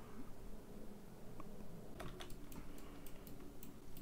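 Computer keyboard keys are pressed in a quick run of light clicks after a quiet stretch, faint and close over a low background hum while working in Blender.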